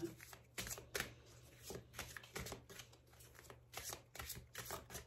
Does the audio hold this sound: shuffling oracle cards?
yes